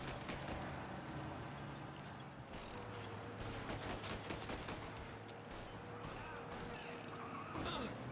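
Rapid video-game gunfire from a vehicle during a driving sequence, dense crackling bursts running continuously over an engine-like drone, with a player's voice talking throughout.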